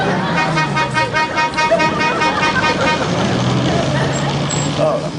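A car trying to pass on the road hoots its horn repeatedly in short tonal bursts over steady traffic and engine noise.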